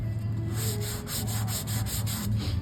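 Close, rhythmic back-and-forth rubbing as guide coat is block-sanded off high-build primer on a car quarter panel, with steady strokes and no talking.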